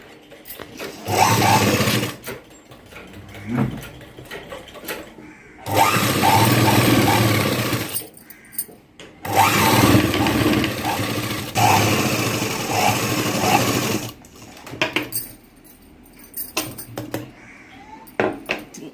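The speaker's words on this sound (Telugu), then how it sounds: "ఇలా వచ్చేసి మనకు జాయింట్ పీస్ మీద పైన ఈ విధంగా స్టిచ్ చేసుకోవాలి నడుముక్కను" An electric sewing machine stitches the waist joint of a blouse in long whirring bursts separated by short pauses and clicks as the fabric is repositioned.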